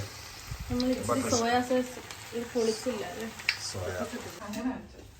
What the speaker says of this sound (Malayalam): ഇത് ഫ്രൈ ആയിക്കൊണ്ടിരിക്കുന്ന ചിക്കനും ഇത് കുക്ക് ആയിക്കൊണ്ടിരിക്കുന്ന റൈസ് ഫ്രൈ റൈസ്